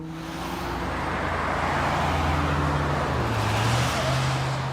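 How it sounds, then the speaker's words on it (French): A Lamborghini Huracan supercar drives along a mountain road, its engine a sustained, fairly close drone whose pitch climbs steadily as it accelerates, with no voices. "Bordel de la Huracan dans la montagne"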